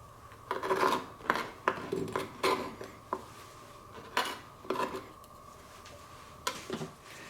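A knife chops pork into small cubes on a cutting board, a series of irregular crisp taps and scraping knocks, close and fairly quiet, with pauses between bursts of cuts.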